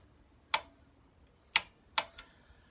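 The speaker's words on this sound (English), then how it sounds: "it's torqued up to 35 Newton meters for these two bolts that we're doing now" A torque wrench clicks while tightening engine guard bolts on a Honda CB500X motorcycle, giving three sharp, isolated clicks spaced about a second apart in quiet surroundings.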